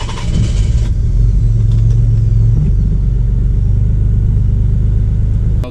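A Nissan 300ZX with a stiff clutch drives along, its engine a steady, loud, close rumble with a brief shift in pitch partway through.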